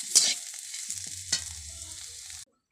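Neem leaves and eggplant fry in a pan for a Bengali neem-begun dish, giving a close, bright sizzle and a few sharp stirring scrapes before the sound cuts off abruptly.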